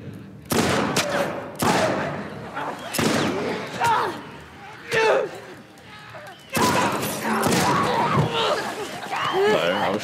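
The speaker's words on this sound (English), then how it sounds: "I was shooting." Gunshots in The Last of Us Part 2, several loud separate bursts spaced across the moment with game noise and a voice talking between them.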